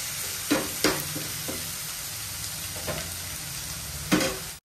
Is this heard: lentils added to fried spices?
yes